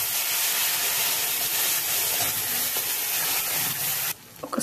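A ground paste of dried coconut and sesame powder hits hot oil with caraway seeds, giving a loud, continuous close sizzle and hiss that cuts off abruptly near the end, followed by a few faint clatters.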